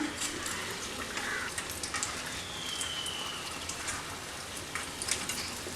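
An egg snack frying in hot oil, a steady close crackling sizzle with small pops throughout.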